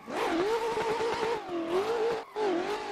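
A BMW E36 drift car slides along a mountain road, tires squealing in long wavering screeches over the engine, loud and close, with brief pauses between slides.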